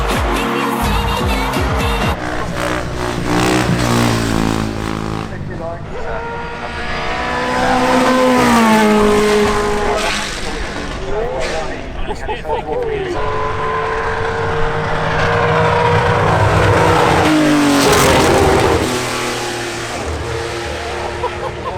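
A Ford race car at the Goodwood Festival of Speed screams past loud and close, engine revving hard through rising and falling gear changes with tyre noise, while people talk nearby.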